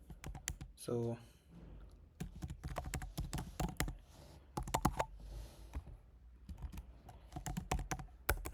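Typing an email address on a computer keyboard: bursts of crisp, close key clicks in irregular clusters, with someone speaking briefly over the typing.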